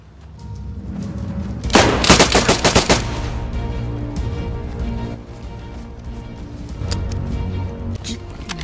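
A loud burst of rapid automatic gunfire in DayZ rattles off for about a second, then gives way to a steady game background with a few more scattered shots.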